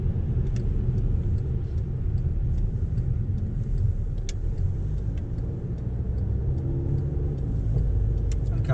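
Inside a 2013 Volkswagen CC with the 2.0 TDI diesel while driving, a steady low road and engine rumble continues throughout with faint ticks and no speech.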